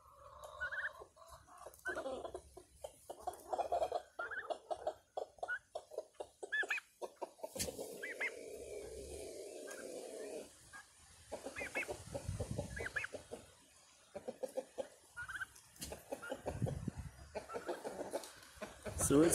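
Baby pet turkeys cluck and peep steadily at close range, with rapid overlapping chirps and gobbling calls throughout and a person's voice speaking softly among them.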